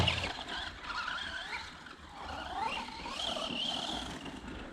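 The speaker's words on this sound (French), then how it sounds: "Pareil, t'as vu, il bloque net les roues." A Funtek STX RC car fitted with real tyres and real shock absorbers brakes hard and locks its wheels, giving a sustained tyre skid and squeal over the whine of its small electric motor, close and fairly loud throughout.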